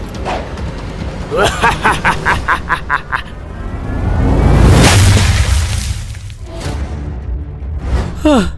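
A grenade goes off in the next-door bathroom in a video game, a loud booming blast that swells and rumbles mid-scene, surrounded by clattering game effects and sharp noises with no clear talk.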